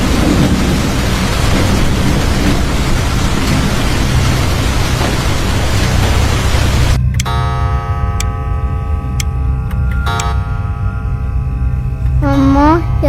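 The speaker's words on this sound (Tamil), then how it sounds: "வெளியே ஒரே மழைப்பா" Heavy rain pours outside with a loud, steady, hissing roar for about seven seconds. It then cuts off abruptly to a quieter indoor scene with faint tones.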